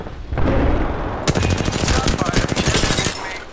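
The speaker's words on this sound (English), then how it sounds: "I'm getting shot at" Gunfire in an Apex Legends firefight: sustained rapid automatic bursts of sharp shots, loud and close, with a heavier opening blast before the rattling volley that carries on to the end.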